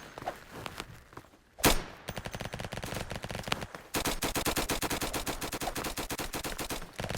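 Rapid automatic gunfire and one sharp explosive blast from a Roblox Flag Wars match, with dense, continuous bursts of shots rattling on for several seconds, loud and close.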